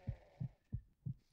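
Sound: hero heartbeat warning sound in video game Warlords Battlecry 3

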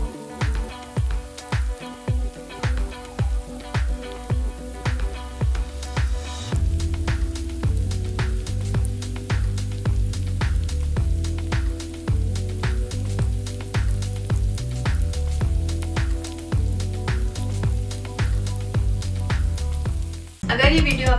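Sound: achari chicken with pickled chillies cooking in a pan

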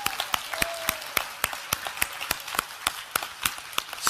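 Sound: congregation clapping for a pastor

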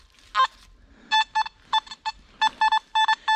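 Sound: Nokta Makro Simplex metal detector signal beep

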